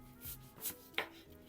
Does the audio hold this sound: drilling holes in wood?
no